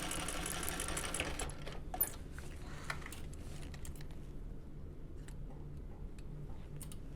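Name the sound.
sewing machine stitching across a bag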